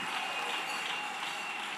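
Sustained applause from a church congregation at a live Sunday service, a thick and even patter of many hands clapping at once with crowd noise mixed in.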